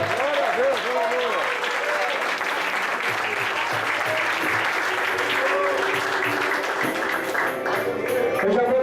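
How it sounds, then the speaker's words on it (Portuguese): A church congregation applauds in a sustained burst of clapping during a worship service, with voices and cheering mixed under the steady clatter. "Abre os lábios, aplauda Ele nessa noite."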